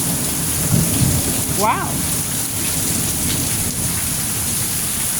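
Heavy rain falls steadily outdoors during a thunderstorm, with a dense, loud hiss of drops on surfaces and low rumbling thunder underneath. A voice briefly exclaims partway through.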